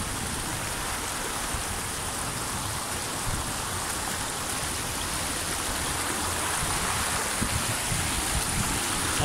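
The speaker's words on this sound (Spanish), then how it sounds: "Aquí te baja el agua con fuerza y con cuidado." A river in Calles, Spain rushing strongly past riverside vegetation and orchards, a loud, dense and steady broadband wash of flowing water close by, unbroken for the whole stretch with no voices.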